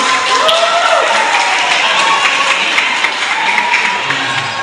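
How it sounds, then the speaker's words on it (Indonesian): Students at a high school visit break into loud, dense applause, a sustained roar of clapping with crowd voices mixed in throughout. "Tepuk tangan dulu kita semua."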